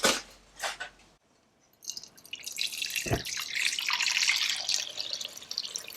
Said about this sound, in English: Fill this pot up with water.